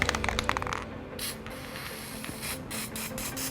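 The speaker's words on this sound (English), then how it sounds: "I'm gonna spray some lubricant in there." Short bursts of aerosol spray hiss near and fairly quiet, with a few brief clicks and rattles at the start.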